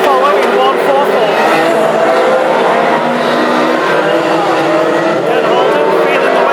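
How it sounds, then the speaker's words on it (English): A rusty-running classic hot rod race car laps a short oval at Northampton during a heat. Loud, steady engine roar mixes with other cars on track, and a commentator talks over it throughout. "Dan Holden feeling the way of that rather rusty running car."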